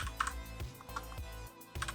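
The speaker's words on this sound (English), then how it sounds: "So we just gonna type import thumbnail" Code is typed on a computer keyboard in a run of soft, close key clicks and taps, some grouped in quick bursts with short pauses between them, and no one talks.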